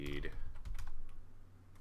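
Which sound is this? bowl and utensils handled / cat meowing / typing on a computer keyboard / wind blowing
typing on a computer keyboard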